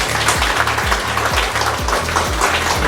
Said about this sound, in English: Can we also give them a big round of applause?